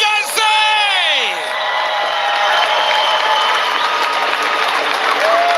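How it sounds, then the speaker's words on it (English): Arena crowd at a BMX finals event in Tallinn, Estonia, applauding and cheering steadily, a broad sustained roar of clapping and whoops with a few sharp yells near the start. "Can I please get a big round of applause?"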